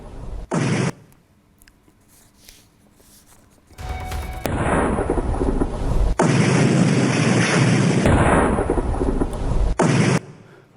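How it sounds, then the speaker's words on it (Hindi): Heavy booming blasts from air strikes in Syria erupt into a sustained, rumbling roar that cuts off abruptly, loud and broad, with quieter stretches in between. "ये धमाके इतने जोरदार थे"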